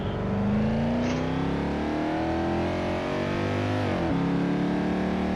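A car engine revs hard while being passed on the road by a Toyota Yaris, its loud droning pitch climbing steadily, then dipping briefly before rising again, close and continuous with no talking.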